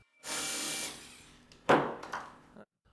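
A power screwdriver driving grip screws into a Beretta 98 pistol, a steady motor whir for about a second, then a sharper louder burst of driving with a short tail, close up and with no talking.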